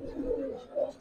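Giribaz pigeons of the Palla line cooing softly in a loft, a low continuous murmur with two swelling coos, near and alone with no talk.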